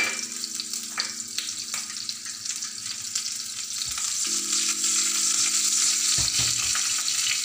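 Green chillies, cumin and red chillies fry in hot oil for a tarka, a steady close sizzle that grows louder midway, with a faint tonal hum and brief clatter near the end.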